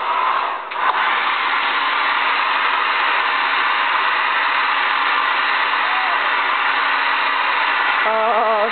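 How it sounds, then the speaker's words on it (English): Hair dryer blowing steadily and loud up close, a continuous broadband whoosh that holds for several seconds, with a brief dip in airflow near the start and a faint voice near the end. "You need more blow dryer."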